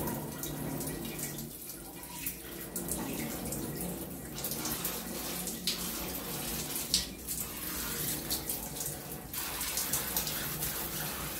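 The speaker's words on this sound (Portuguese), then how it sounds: "Agora eu vou vir aqui e vou enxaguar todo o meu box." Water running steadily as an acrylic shower enclosure is rinsed, a continuous close splashing spray with shifting surges as the stream moves across the panels.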